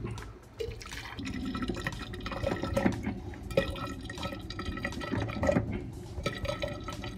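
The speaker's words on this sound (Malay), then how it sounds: "cikgu akan masukkan air panas dulu ke dalam teko cikgu" Hot water poured from a kettle into a teapot for brewing tea in a classroom demonstration, a steady liquid pouring and splashing lasting several seconds with small clinks, close and moderately loud, no talk.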